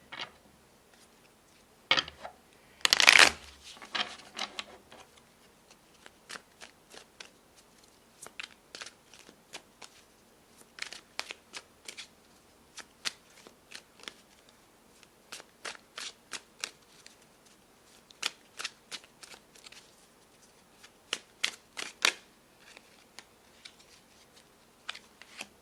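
A tarot card deck being shuffled by hand, a run of crisp riffling and flicking card sounds, close and fairly quiet, repeating irregularly with no talking.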